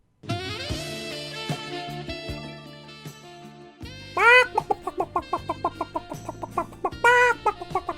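Chicken in the video game Crysis clucking and squawking in quick repeated bursts, close and fairly loud, over a musical game soundtrack with no one talking.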